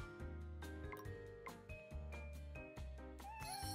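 Cartoonish cat meows from a gacha summon animation in the game Girl Cafe Gun, several short mews over bright, busy game music with chimes and sparkles.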